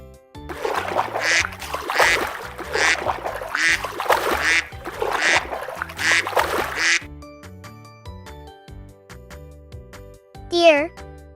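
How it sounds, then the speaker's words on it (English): Duck quacking in a children's animal-names lesson, a short burst of quacks near the end after a stretch of speech and light background music. "Duck,"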